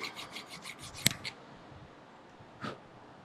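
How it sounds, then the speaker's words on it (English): A file rasps splines inside an early Ford steering pitman arm, giving a quick run of short rhythmic strokes, a sharp metallic clink, and one more stroke after a pause, faint and close. "I'm gonna file some splines in that, inside that pitman arm"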